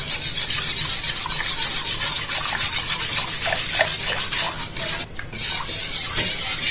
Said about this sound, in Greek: Θα ανακατέψουμε λοιπόν για να διαλυθεί το αλεύρι.